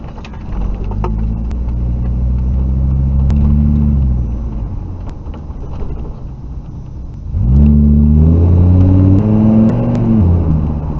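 A V10 van engine rumbles and revs, rising and falling twice in drawn-out surges, with a booming, enclosed echo while passing beneath a freeway at night.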